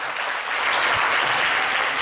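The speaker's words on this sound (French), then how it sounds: "Alors, on va l'applaudir." A studio audience at a French-language television contest finale applauds in a steady, even wash of clapping that swells slightly and holds throughout.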